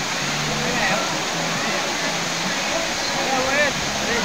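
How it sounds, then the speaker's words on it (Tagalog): Dampalit Falls, a waterfall, pours in a steady, loud, broadband rush throughout, with faint voices murmuring beneath the continuous roar. "Wow. Dampali Falls."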